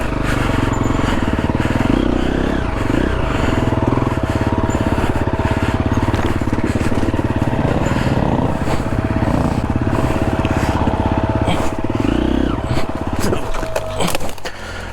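A Triumph TF250E dirt bike ridden hard through Australian bush, its engine loud and close throughout, revving up and down with gear changes over nearly fifteen seconds.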